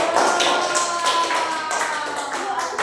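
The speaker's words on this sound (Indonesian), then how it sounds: "Oke, kalau begitu boleh semuanya kasih aplaus dulu" A classroom group gives a short round of applause, steady patter of clapping hands at close range lasting a few seconds.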